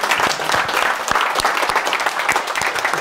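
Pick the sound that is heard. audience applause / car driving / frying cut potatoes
audience applause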